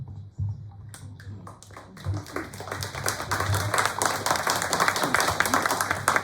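Audience clapping at a special election candidates' forum after a candidate finishes speaking, building from a few scattered claps into steady, dense applause that fills the room.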